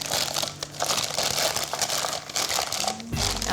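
A plastic piping bag crinkles steadily as it is folded over and pushed into a cup, a close, continuous rustle with a few sharper crunches near the end.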